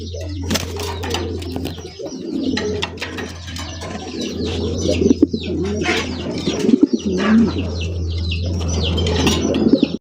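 Fancy racer Golla Giribaz pigeons coo in a steady, overlapping chorus close by, with scattered chirps and wing flutters over a constant low hum.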